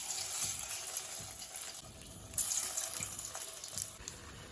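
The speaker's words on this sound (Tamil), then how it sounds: "இப்போ எண்ணெயில் போட்டு பொரிச்சுப்போம்" Potato and carrot bonda balls deep-fry in hot oil, giving a steady close sizzle with scattered sharp crackles and small pops throughout, with no voices.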